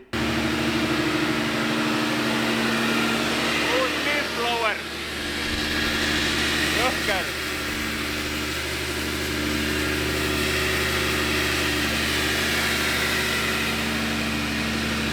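A Nissan 350Z drift car on a dyno starts up and settles into a steady mid-pitched idle, the engine running continuously and fairly loud after a brief cranking burst, with voices speaking over it.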